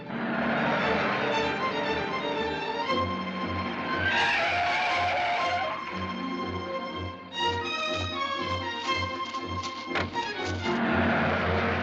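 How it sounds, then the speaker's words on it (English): A car approaches from behind on a curving road and pulls to a stop, its engine note rising and falling steadily under dramatic music, with no talk. "There's a car coming up behind us."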